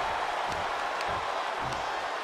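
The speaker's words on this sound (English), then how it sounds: "The sound of this crowd is deafening" Crowd roar from a WWE wrestling video game arena, a steady, broad wash of many voices cheering at constant loudness, no distinct individual sounds standing out.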